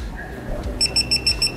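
A MOLLAR TW05-340D digital torque wrench tightening a wheel bolt to 120 Nm gives a rapid series of about six short, high electronic beeps, with a motorcycle workshop noise bed beneath.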